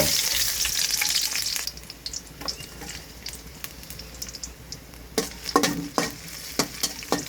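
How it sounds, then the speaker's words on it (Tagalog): Garlic sizzling in hot oil in a wok, a loud bright frying hiss at first that drops to a steady softer crackle, with scattered sharp clicks and scrapes of stirring toward the end. "Ilagay yung kawali. Ilagay ang mantika. Ilagay ang bawang."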